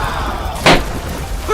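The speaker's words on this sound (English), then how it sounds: "Once it reaches the fire, it will drop the water balloon below!" A water balloon drops from a toy hot air balloon onto a real fire in a miniature Lego scene, landing with a single short burst of impact.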